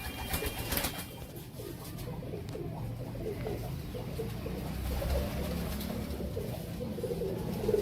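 A Teddy breed pigeon coos softly and repeatedly, a low, throaty murmur heard up close against a quiet background.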